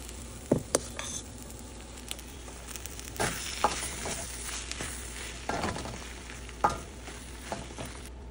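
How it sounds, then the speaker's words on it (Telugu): Cooked rice being stirred into tomato gravy in a pan, soft sticky squelches and spoon scrapes at an irregular pace over a faint sizzle. "ఇలా కంప్లీట్గా టమాటో గ్రేవీ రైస్కి పట్టేలా కలుపుకోవాలి"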